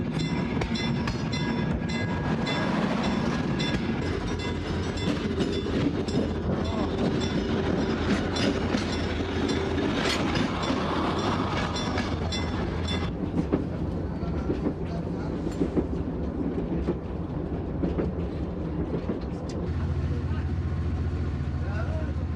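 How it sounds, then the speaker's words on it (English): A night train in Egypt rolls along the rails with continuous clickety-clack and rumbling carriage noise, loud and steady throughout, with a voice talking over it. "Now we transfer to a night train and continue on south."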